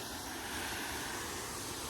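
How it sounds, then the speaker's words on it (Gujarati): Rushing water pours over a dam overflowing after heavy rain on a large river, a dense, continuous roar with strong wind buffeting the microphone, steady and loud throughout. "પાણીનો અવાજ એ બહુ આવે"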